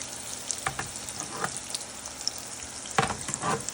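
Beef meatballs frying in hot oil, a close continuous sizzle with scattered pops and a few louder bursts of spattering.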